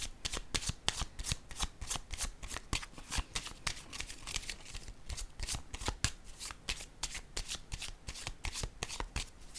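Tarot cards being shuffled and handled with rapid, crisp riffling flicks in a steady rhythm, close by and fairly quiet, continuing without pause and with no speech.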